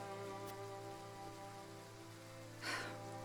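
Steady rain falls in the video game Triangle Strategy, a soft, even hiss that is quiet and continuous, with no talking.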